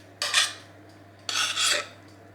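Bolognese sauce scooped out of a pot with a utensil, two short scraping, wet rasping strokes against the pot over a low steady hum, close by, no talking.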